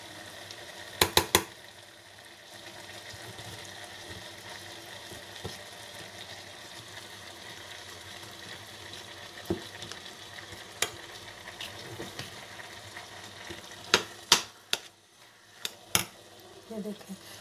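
Grated carrots sizzle gently in ghee for gajar ka halwa, a soft continuous fry broken by sharp clinks of a utensil against the pan, with a voice talking now and then.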